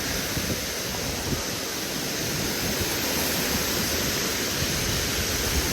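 A waterfall at Malshej Ghat roars continuously nearby, a loud, steady rushing of water with no pauses and no speech.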